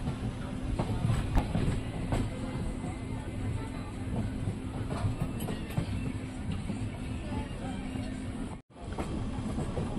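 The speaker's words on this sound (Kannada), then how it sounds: "ನಮ್ಮ ಟ್ರೈನ್ ಈಗ ಯಾದಗಿರಿ ರೈಲ್ವೆ ಸ್ಟೇಷನಿಗೆ ಬಂದಿದೆ" A passenger train travelling toward Yadagiri railway station, heard from on board as a continuous rumbling run with faint rhythmic clatter, steady and fairly loud, with a brief dropout near the end.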